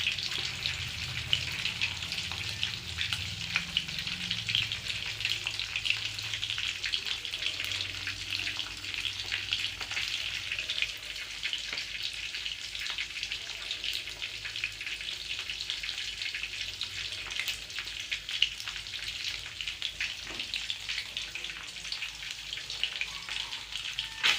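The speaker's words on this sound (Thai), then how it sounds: "ในขณะที่ทอดปลา" Fish frying in a pan of oil, a steady bright sizzle and crackle with scattered pops that holds at an even level throughout, close by with no talk.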